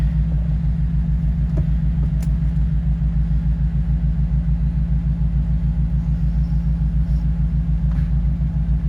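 Morris 1300 barn-find car engine idling, a steady low rumbling throb with a fast even pulse, close and continuous, no talking.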